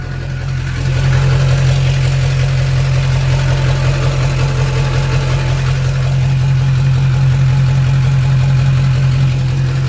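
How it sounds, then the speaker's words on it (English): A Duramax LBZ diesel idles with a straight pipe off the downpipe, a loud, steady low rumble that settles into an even drone after startup, close to the exhaust and continuous throughout. "Got to do a small clip of the LBZ straight pipe coming straight out of the downpipe when we first fired it up."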